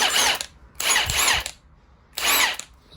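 A Milwaukee power tool gun running on an adapted Makita battery whirs in three short, loud bursts separated by brief pauses, close up and with no talking.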